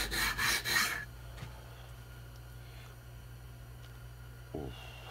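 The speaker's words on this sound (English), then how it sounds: "I'm going to just sand it" Guitar frets are sanded in a few quick, loud back-and-forth rubbing strokes at the start, followed by quieter handling with a faint scrape near the end and no talking.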